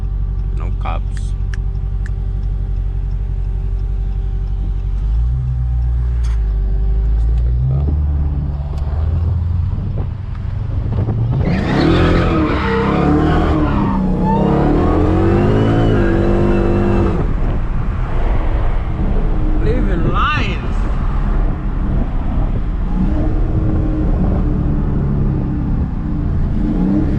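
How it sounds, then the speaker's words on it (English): Dodge Charger SRT Hellcat idling with a deep rumble, then revving hard through rising and falling engine sweeps while drifting, with exhaust pops, close and loud, as a person talks over it. "I love the pops it makes. But yeah, that's the Hellcat right there."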